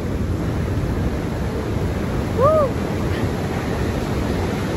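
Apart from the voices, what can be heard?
big ocean waves breaking on a Queensland beach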